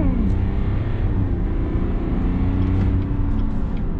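A 2022 GMC Sierra 1500 AT4 diesel pickup pulls hard, with a steady loud engine drone and road rumble heard from inside the cab, a rising engine tone, and no talk.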